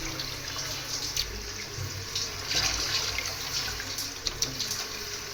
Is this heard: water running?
yes